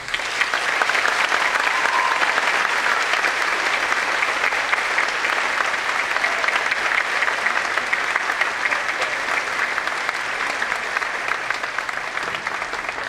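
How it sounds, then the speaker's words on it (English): An audience at a senior assembly applauds steadily for about thirteen seconds, a dense, even wash of many hands clapping that holds its level throughout. "Please give her a round of applause."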